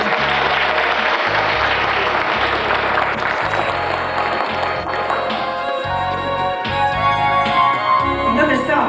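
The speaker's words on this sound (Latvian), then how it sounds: "Aplausi pagastam." Applause from the audience at a rural parish business presentation evening in Vecpiebalga, steady clapping that carries on throughout while music with a low, pulsing beat plays underneath and grows more prominent toward the end.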